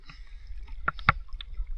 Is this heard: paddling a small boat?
yes